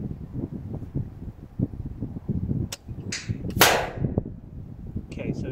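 A shot from an FX Crown Compact MkII air rifle during a holdover test rings out as one sharp, fairly loud crack midway, with a few fainter clicks and handling noises around it against a windy outdoor background.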